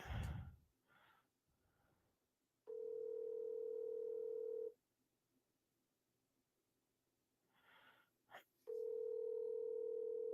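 Outgoing phone call tone while dialing a friend: two long, steady electronic ringback tones separated by a pause, with breathing and faint voice sounds near the start and between the rings.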